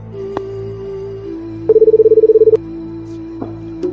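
A telephone number is dialed as a brief run of about a dozen rapid, evenly spaced touch-tone beeps, loud and close. The beeps sit over a steady low hum and tone.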